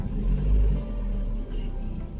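An Opel engine revs briefly as the throttle is pressed during a diagnostic check, a low, close rumble that swells and then settles back to a steady idle.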